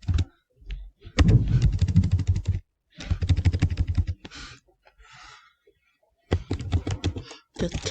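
Rapid keystrokes clatter on a computer keyboard as code is typed, in several dense bursts separated by short pauses, close and fairly loud.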